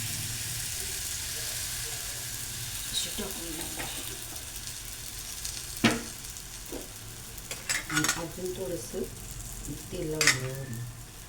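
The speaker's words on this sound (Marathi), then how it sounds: "आपली पुरणपोळी अशी एका साईडवर भाजून घेतली सगळी" Puran poli roasting in oil on a flat pan, a low steady sizzle running throughout, with occasional scrapes and handling clatters growing busier toward the end.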